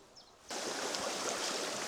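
Small fast river with trout pouring over a waterfall, a sudden loud steady rushing wash that cuts in after a quiet moment and continues close and unbroken, with no talk.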